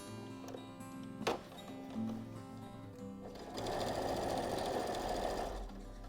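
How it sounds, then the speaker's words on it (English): A sewing machine stitches a tablet sleeve made from denim jeans; after a few clicks and a brief whir, it runs in a steady, close, dense buzzing stretch for the last few seconds, without speech. "you're going to sew down one side, along the bottom and back up the other side"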